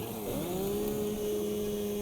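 Chainsaw in the video game Satisfactory revs up and settles into a steady, close, loud engine drone that holds alone for about two seconds.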